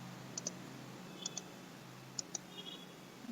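Three pairs of quick, faint mouse clicks spaced about a second apart while restraints are assigned to base joints in structural design software for a tall building, over a low steady hum.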